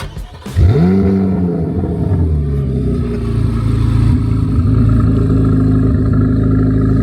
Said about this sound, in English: That, my friends, is what a C8 Z06 sounds like.